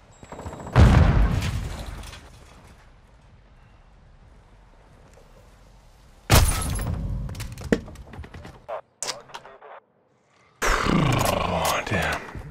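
In Call of Duty Modern Warfare II (2022), a Semtex grenade explodes and guns fire in bursts: a deep boom near the start, then loud rattling gunfire and further blasts, with a voice calling out between them.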